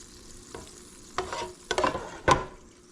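Meat being scooped out of a greasy pan with a slotted spoon, with four or five separate scraping strokes over a faint sizzle, growing louder toward the end.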